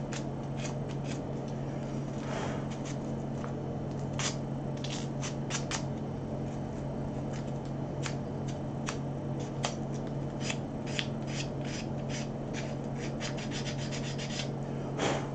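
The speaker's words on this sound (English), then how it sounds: "We're almost done here with the sanding" Steady hand sanding with a continuous rubbing hiss and scattered brief scratchy strokes, close and fairly loud, with no talking.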